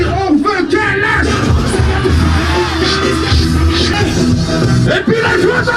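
A concert crowd at a show shouts and chants together, a dense, loud roar of many voices that holds steady with no pauses.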